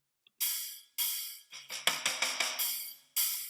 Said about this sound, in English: What have we got as an intro fill?